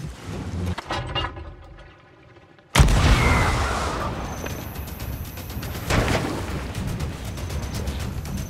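Loud fireworks boom while sailing, a sudden blast followed by a broad rumbling roar that sustains for several seconds, with a second swell of noise partway through, heard out on the water.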